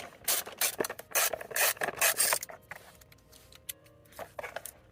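Socket ratchet working loose bolts on a dirty Yamaha TW200 motorcycle frame, rapid close rasping ratchet strokes in bursts that then slow into quieter, intermittent clicks.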